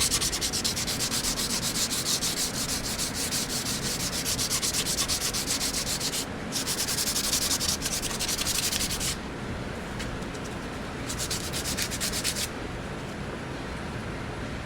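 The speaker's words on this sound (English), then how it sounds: "But if you want it to look good, you gotta sand it." Continuous abrasive rubbing of sanding on a vehicle body panel during body work prep, steady and close, with brief pauses and changes in stroke around the middle and end, no talking.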